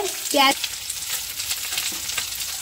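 Sliced onions frying in oil for chilli chicken, a continuous close sizzle with a brief clink of a utensil against the pan at the start.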